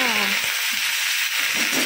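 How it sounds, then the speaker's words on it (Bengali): Bitter gourd and potato pieces frying in hot oil, a dense, continuous close-up sizzle with a short voice at the start. "এই যে উচ্ছে ভাজতে বসিয়ে দিয়েছি, আলু দিয়েছি"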